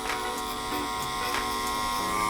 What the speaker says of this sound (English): a powerful motor that won't drag or stall, carbon steel cutting blades, and it's cordless